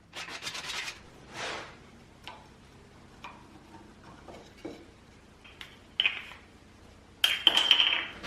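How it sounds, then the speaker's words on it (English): Sanding by hand on the small wooden trigger of a homemade cap shooter, heard as sparse, separate short rasping strokes with quiet gaps between them, close and fairly faint. "I'm sanding the trigger a bit more so there won't be any rough edges for the finger."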